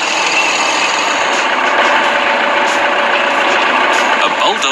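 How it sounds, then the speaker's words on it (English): A tracked bulldozer's engine runs nearby, producing a loud, unbroken diesel rumble and rattle throughout with no pauses. "It's a bulldozer."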